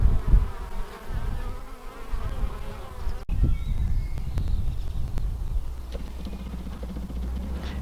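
Honeybees carrying pollen into their hives on a spring day in the Wyoming mountains, making a steady, close, continuous buzz of many insects with no talking.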